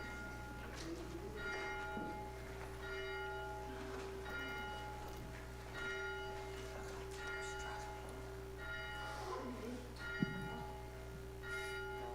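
A church bell rung at the start of a Unity Easter service, its sustained ringing tones repeating at a slow, even pace and sounding moderately near in a quiet room, with a faint voice at times.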